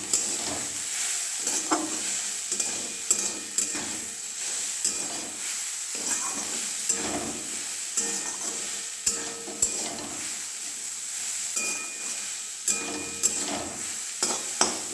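Garlic and green chili frying in a pan, a steady close sizzle with repeated scraping stirs and occasional sharp clicks of the utensil, no voices.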